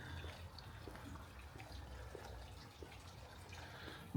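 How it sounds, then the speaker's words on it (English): A small garden water feature at Grasmere in the Lake District trickles quietly, a soft continuous splashing with faint drips under low outdoor background. "Very nice little water feature."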